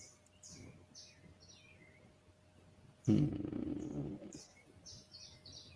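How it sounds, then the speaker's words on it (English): Faint birds chirp and tweet intermittently in the distance, broken by a short burst of low rumbling noise midway. "I can hear the birds chirping."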